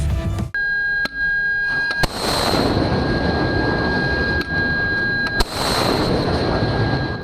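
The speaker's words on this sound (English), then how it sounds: "vertical launch systems burst open. M6 interceptor missiles shot upward like volcanic explosions" Sharp booming bursts of missiles launching from a warship's vertical launch system punctuate a sustained roaring rush, with a steady high electronic tone running underneath; loud and close, two or three distinct impacts.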